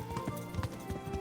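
A fast horse's hooves pound in a rapid galloping rhythm in Kingdom Come: Deliverance, sounding muffled and low over a steady game soundscape.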